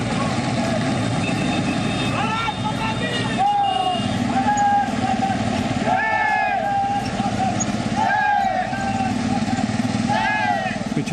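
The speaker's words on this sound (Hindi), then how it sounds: "मोटरसाइकिलों पर सवार जवानों ने तिरंगे को शान से थामकर श्रीनगर का चक्कर लगाया।" Border Security Force soldiers ride motorcycles in a flag rally through the streets of Srinagar. Engines rumble continuously beneath repeated horn-like tonal calls, with a crowd babbling in the background.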